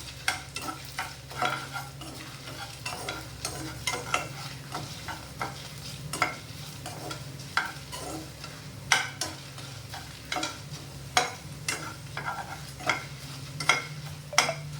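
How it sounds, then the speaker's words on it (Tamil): Ingredients roast in a little oil in a pan for a raw-rice dish, with a low steady sizzle and repeated scraping stir strokes at an irregular rhythm, close and alone. "நல்லா வறுக்கணும்."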